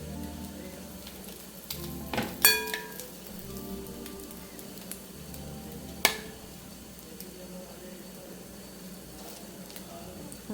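Bread topped with masala and onions frying in a pan gives a soft, steady crackling sizzle with a few sharp clinks of utensils, close but fairly quiet, under a light murmur of talk.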